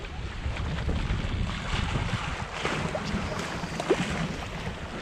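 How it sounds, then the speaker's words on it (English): A sailboat under full sail on a beam reach in a 10-to-12-knot breeze, with steady wind rushing past and water washing along the hull, a continuous close roar with a faint creak now and then. "Got full sail up."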